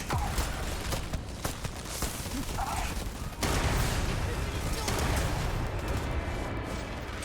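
A weapon firing in Starfield, a loud, dense burst of rapid gunshots with irregular cracks and a sustained rumble of combat, with a voice briefly heard amid the noise.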